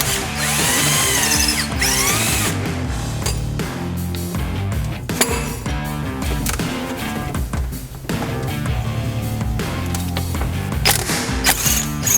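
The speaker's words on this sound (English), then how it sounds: "we can remove the 3 remaining 12mm bolts that hold the AC compressor down" A power tool whirs in repeated bursts while removing the 12mm bolts holding the AC compressor on a 2012 Subaru Forester, loud and close, with metallic clinks between runs.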